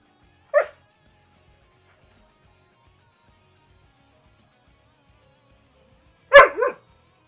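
A dog barks twice, close by and in an otherwise quiet room: one short bark, a long pause of several seconds, then a louder double bark.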